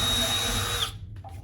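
A power drill, run through a Drill-Rite drill bushing guide set on metal tubing, whines loud and steady, then stops abruptly and leaves faint rustling.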